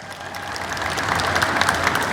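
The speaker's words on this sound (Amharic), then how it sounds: "ኧረ ጌታዬ ሆይ ገና ንስሐ አልገባሁም አልታጠብሁምና ትንሽ ቆይ የምትሉ ደግሞ በደንብ አጨብጭቡ።" Church congregation clapping together, a dense wash of handclaps swelling slightly louder over a couple of seconds, with no voices over it.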